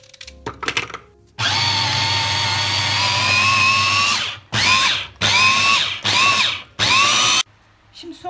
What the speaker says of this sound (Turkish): Soğanlarımızı rondodan ince olacak şekilde çekmeye başlayalım.